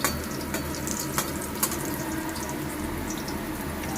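Pointed gourd slices frying in a pan, a continuous close sizzle with a few sharp clicks of turning or stirring near the start.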